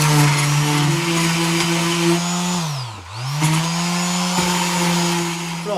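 A broom handle is sanded down with a power tool whose steady, close motor whine briefly sags in pitch midway, then climbs back up and runs on.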